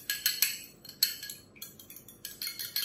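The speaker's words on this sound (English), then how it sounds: "I have 1 egg here and I'm just gonna whisk it" A single egg being whisked in a bowl, quick bursts of bright metallic clicking and tapping in uneven runs, close and alone.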